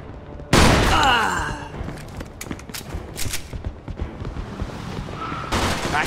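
Gunfire from the Mafia 2 video game: a sudden loud volley erupts, then a run of sharp shots and thuds, ending with another heavy burst.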